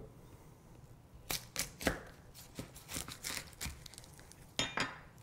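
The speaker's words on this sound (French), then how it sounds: "Pour l'oignon, je le coupe en 2." A kitchen knife cuts through an onion on a board, a handful of sharp, separate chopping knocks spaced irregularly over a quiet background.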